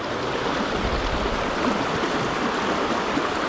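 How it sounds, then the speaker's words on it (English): River white water rushes steadily, loud and close, a constant broadband roar of churning current at a fly-fishing spot, with no voices. "So you got this white water here, and then it just gets a little soft right in there."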